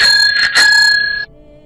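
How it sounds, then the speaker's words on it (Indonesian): A bicycle bell on an old-style ontel bike rings in quick, bright ring-ring bursts, loud and close, then cuts off into near silence. "itu seperti suara bel sepedaku"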